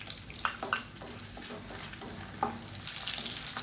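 Curry leaves and dried red chillies frying in oil for garlic chutney, a steady crackling sizzle with a few sharper pops and utensil taps, heard up close without talk.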